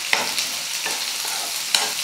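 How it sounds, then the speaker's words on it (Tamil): Small onions sizzle steadily in a hot pan for a Tamil country chicken fry, with a few brief scraping stirs of a utensil. "வெங்காயம் வந்து நல்லா வதங்கணும்."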